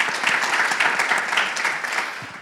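Audience applause at a live podcast recording during a summit: dense, continuous clapping from a moderate crowd, fairly close and steady before tapering slightly at the end.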